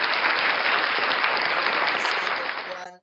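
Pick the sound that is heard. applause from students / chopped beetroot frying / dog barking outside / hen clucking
applause from students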